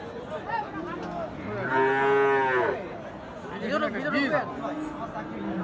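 A Gir cow at a livestock market lets out one long, loud moo midway through, with other cattle lowing and people talking and chattering around it.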